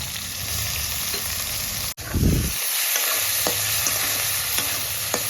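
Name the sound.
whole garam masala and bay leaves sizzling in oil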